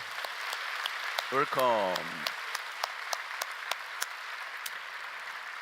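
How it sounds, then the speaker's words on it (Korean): A church congregation applauds during a Friday overnight worship service, with sparse, rattling claps spread throughout and a short spoken word from a voice near the start. "우리 이렇게 중고등부 청년들을 위해서도 박수 한번 치겠습니다."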